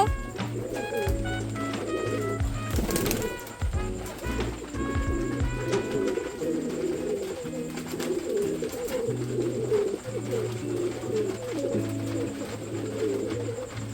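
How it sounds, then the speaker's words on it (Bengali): Pigeons coo steadily while feeding in a courtyard during rain, a deep repeating throaty coo close by and continuous, with rain patter beneath and a brief clatter partway through. "ভাই পায়রা খাওয়াচ্ছিল উঠানের ওপর ওখানে দেখতে।"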